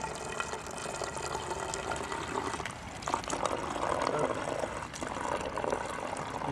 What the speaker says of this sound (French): On va verser à peu près 15 centilitres de vinaigre.